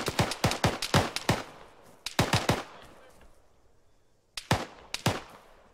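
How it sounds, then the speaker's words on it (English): Sniper and rifle gunfire in the military shooter ARMA 3: bursts of sharp, loud cracking shots in rapid clusters, separated by a quieter stretch, then two further volleys, with no talking. "he's just fucking snipers taking shots at me"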